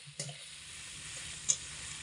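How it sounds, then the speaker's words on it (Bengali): Pumpkin pieces frying in oil give a faint, steady sizzle with a soft stir or clatter near the start and a brief tick about midway. "তো তেলের মধ্যে কুমড়ো দিয়ে ভাজার সময়"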